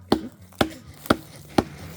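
A Paleolithic Neanderthal character chops a tree with a tool in a video game, four evenly spaced sharp thwacks landing about half a second apart, close and crisp over a low hum.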